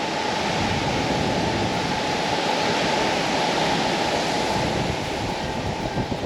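Cold mountain stream in Albania, its water flowing steadily as a loud, continuous broadband rush with no pauses and no voices.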